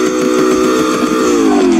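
Sports car engine from a 2021 Chevrolet Corvette C8 or a 2006 Ford GT, loud and close, holding a high rev with a strong droning tone that sweeps slightly downward near the end.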